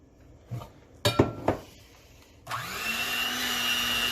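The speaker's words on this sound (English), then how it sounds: "My mixer is so crazy." An electric mixer blending spinach puff batter starts with a few clinks and knocks, then whirs steadily and loudly at high speed until the end, with no talk.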